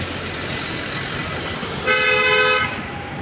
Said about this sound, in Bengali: হরেন ওকে আছে